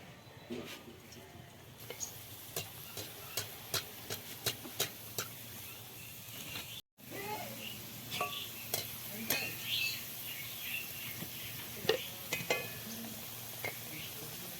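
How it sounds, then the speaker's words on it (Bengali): Flour pitha cakes fry in hot oil, giving a steady soft sizzle with repeated light clicks and taps of a utensil against the pan, close by, and no talking. "এখন ভেজে নিব বসে দিয়েছি তেলটা গরমও হয়ে গেছে"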